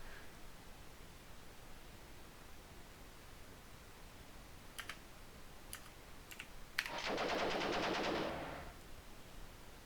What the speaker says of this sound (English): So we're going to be sticking with the machine gun, because we've got unlimited machine gun ammo